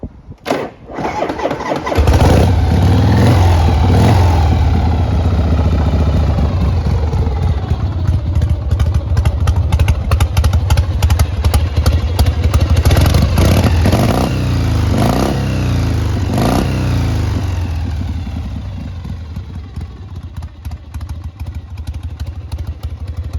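A 1974 Harley-Davidson FLH 1200cc Shovelhead Electra Glide starts up after a brief crank, then idles loudly and unevenly close by with a rough, lumpy throb that eases slightly toward the end.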